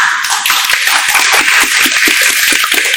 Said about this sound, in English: to a big round of applause